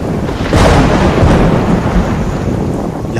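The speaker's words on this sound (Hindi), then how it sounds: "लगता है तूफान आने वाला है," Heavy thunderstorm with a loud, close rumble of thunder rolling over steady dense rain, filling the whole stretch with a constant roar and no voices.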